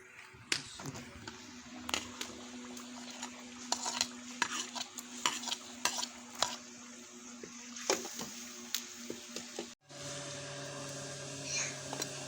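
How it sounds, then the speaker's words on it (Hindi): Ginger goes into a sizzling pan during village-style Sindhi biryani cooking, followed by stirring, with clinks and scrapes of a utensil over a low sizzle and a steadier frying hiss near the end. "अब हम इसमें अदरक डालेंगे।"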